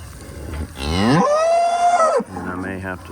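Cattle on a bahia grass pasture giving one long, loud, drawn-out moo close by, followed by a shorter lower call.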